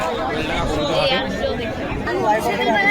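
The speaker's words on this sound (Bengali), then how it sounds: "আজকের হাটে দেখুন ভালো ভিড় হয়েছে" Steady crowd chatter fills the busy Beldanga pigeon market, a dense babble of many voices close around, with one voice briefly speaking near the front.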